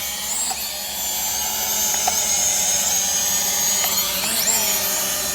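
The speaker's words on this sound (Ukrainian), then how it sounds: "О, і дрон сам злітає." A cheap FPV drone lifts off on automatic takeoff and hovers, its small propellers giving a loud, steady high-pitched whine with slight pitch wobbles throughout, no voices.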